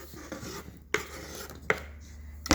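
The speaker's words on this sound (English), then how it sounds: "I'm going to add the vegetables to the dressing, just like so," Chopped vegetables tipped into a bowl of salad dressing and tossed together, with soft wet shuffling and a few sharp clinks of a utensil against the bowl, close and fairly clear with no talk.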